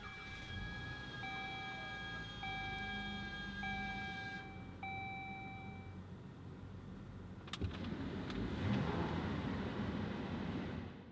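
2017 Dodge Journey Crossroad started by push button, a series of electronic chimes and beeps from the dash followed by the engine cranking and catching into a steady low idle rumble inside the cabin.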